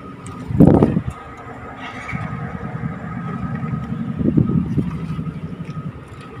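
A client's car with a faulty computer box idles at an abnormally high RPM, giving a steady low engine drone with a louder rev swell near the start and another later.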